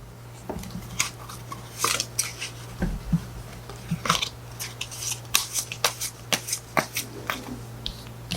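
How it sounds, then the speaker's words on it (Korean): Tarot cards are shuffled and drawn by hand in a quiet indoor setting: soft, close, irregular snaps and rustles of card stock, some in quick bursts and others spaced apart, with no talk. "우선 추가 카드를 뽑아보도록 하겠습니다"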